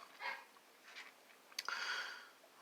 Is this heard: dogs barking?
yes